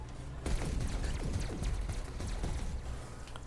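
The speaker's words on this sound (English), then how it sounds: "I think that's like a plasma gun, right? Yeah, cannon." Plasma cannon fire in the online action game SkyForge, a fast stream of rapid, clattering shots in quick succession, steady and moderately loud with no voices over it.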